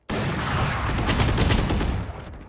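Gunfire from the Valorant shooter game, played on a Ryzen 7 4800H laptop with an RTX 3050, comes as a loud, dense burst of rapid shots that starts abruptly and lasts about two seconds, with no talk over it.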